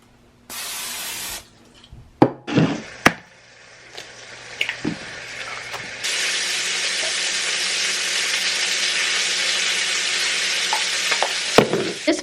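Bacon and eggs frying in a pan for a bagel sandwich, with a brief sizzle burst, a few clanks of utensils, then a loud steady sizzle that keeps going for several seconds, close and with no talking.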